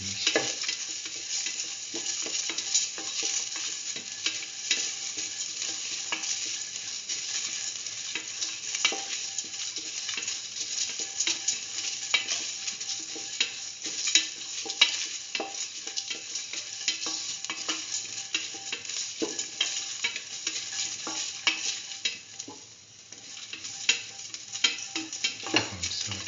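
Shallots and a curry mixture sautéing in a pan for curried mustard chicken, a steady close sizzle with occasional stirring scrapes and ticks throughout, without any voices.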